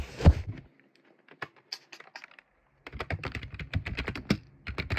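Keys clatter on a computer keyboard in short irregular bursts, close and fairly quiet, with a brief pause between flurries.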